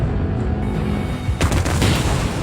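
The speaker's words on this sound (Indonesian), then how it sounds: "Dan bom E5 di ruang server meledak." An E5 bomb explodes in a server room in a Korean drama scene, a loud close blast that breaks over a rumbling low background and leaves a roaring wash of debris.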